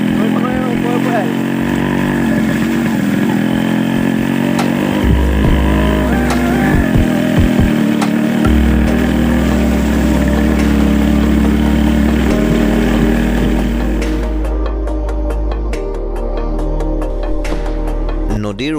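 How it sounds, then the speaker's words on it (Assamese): A motorbike crosses a river near the Assam–Nagaland border, its engine droning loud and steady for the whole stretch with shifting revs, while someone talks over the noise. "নদীৰ ওপৰে বাইক চলোৱাৰ ৰোমাঞ্চকৰ অভিজ্ঞতা"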